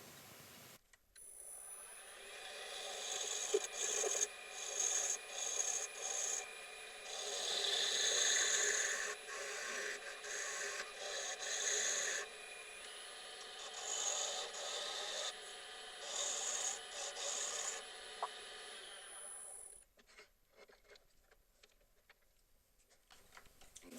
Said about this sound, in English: I'm using skew chisel for this, for the sapelli part